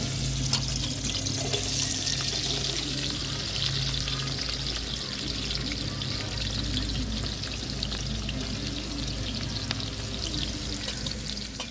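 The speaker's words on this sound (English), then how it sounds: "pour that into your dal and hear that beautiful sizzle" Hot oil with scallions sizzles steadily as it is poured into a pot of dal, cooked for a Guyanese Hindu puja; the loud, even frying hiss carries through the whole stretch with no talk.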